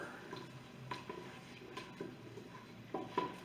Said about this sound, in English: we add our Marsala. and give it a good stir.